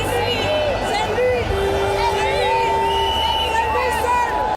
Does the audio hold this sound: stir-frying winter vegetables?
no